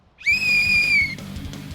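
A single sharp, high starting whistle blast for a race lasting nearly a second, loud and close, followed by quieter background noise.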